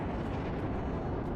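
Missiles striking a ship in the space combat game Dreadnought, a dense, loud, sustained explosive rumble filling a brief moment with no talk.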